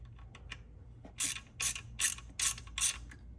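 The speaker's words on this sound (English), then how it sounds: "Tighten it down. Now as long as your tool didn't move and it's close up to the sprocket, you can go ahead and remove it." Ratchet tightening a timing tool against the sprocket on a Ford Mustang EcoBoost S550 engine, five quick, evenly spaced clicking pulls close up, preceded by faint handling noises in a quiet shop.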